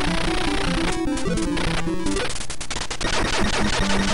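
Rapid game gunfire from Bionic Commando rattles in dense bursts over a looping electronic soundtrack, growing louder and more chaotic midway, with no talking.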